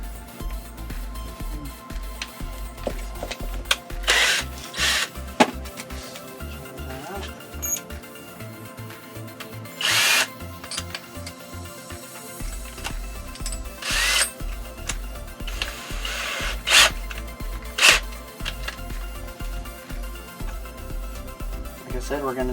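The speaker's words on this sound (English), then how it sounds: "we're going to drill it from the other side" A power drill bores through a roughly one-inch-thick board to make a hole for water pipe, running in repeated whirring bursts and stopping between them, with people talking intermittently over it.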